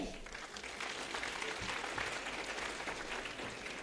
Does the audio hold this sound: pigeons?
no